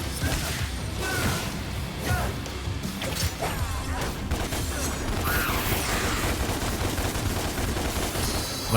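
Gunfire and crashing impacts in Devil May Cry combat, a busy stream of shots, smashes and mechanical clatter at moderate loudness with no talk over it.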